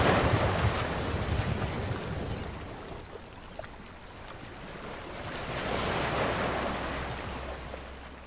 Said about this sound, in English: And the crashing waves.